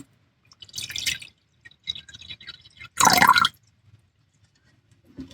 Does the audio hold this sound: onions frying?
no